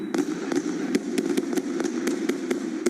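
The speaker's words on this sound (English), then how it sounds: "Right before the sound of multiple gunshots ring out." Multiple gunshots captured on a cell phone in Little Italy: about a dozen sharp cracks in quick, fairly even succession over a loud, muffled, boomy background, distant and distorted.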